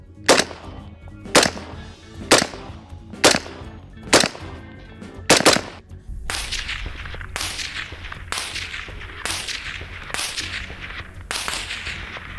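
A series of sharp gunshots from Metal Gear Solid 3 cracks out at steady intervals, about six distinct reports, then a faster run of shots over a rumbling background.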